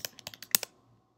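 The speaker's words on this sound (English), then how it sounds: "So here we're going to go ahead and type in your credentials." Login credentials typed on a computer keyboard: a quick, close run of about eight crisp key clicks in uneven rhythm, then silence.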